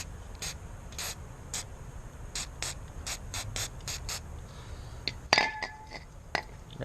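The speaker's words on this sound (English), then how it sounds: "Spray it down one more time." Cleaner sprayed onto the wheel of a blend door actuator from a 2005 Honda Odyssey, heard as a run of short, quiet, evenly spaced spritzes, then a sharper click and clink near the end, close and faint.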